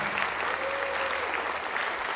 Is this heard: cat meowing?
no